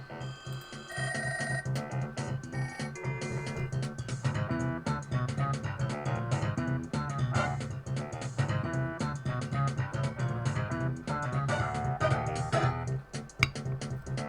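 Busy chiptune video game music with a prominent bass line from a My Arcade DGUN-2959 220-in-1 plug-and-play console, playing continuously at moderate level with no voices over it.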